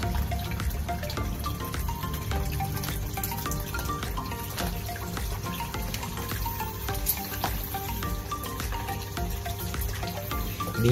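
Water trickles and drips steadily down a small pump-fed waterfall diorama built as a hardscape, a soft continuous splashing close by with no talking.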